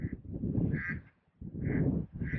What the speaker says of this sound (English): a lake with ducks, which you can probably hear